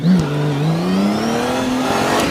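A Harley chopper-style bobber motorcycle engine revs loudly and close, its steady tone climbing gradually in pitch as it winds up, with no talking.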